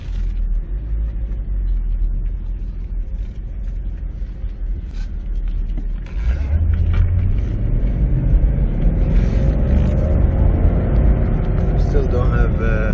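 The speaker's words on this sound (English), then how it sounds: "Just started the vehicle." A 2015 Chevy Camaro with a transmission hard-shift and limp-mode fault runs just after being started, a steady low engine rumble close by that grows louder and fuller halfway through.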